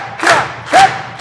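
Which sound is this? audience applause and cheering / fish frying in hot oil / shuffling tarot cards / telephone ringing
audience applause and cheering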